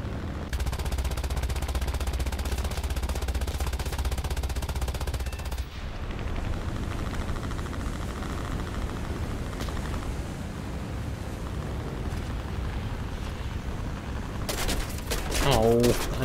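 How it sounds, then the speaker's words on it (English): Aircraft machine guns rattle in long, rapid bursts while strafing ships in War Thunder, followed by a stretch of dense rumbling gunfire and explosions, with a voice briefly speaking near the end. "let's strafe some ships"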